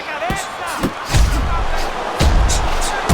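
Fight Night Champion boxing match in which a counter punch lands with heavy, low thuds amid a steady crowd roar. A commentator speaks over the action.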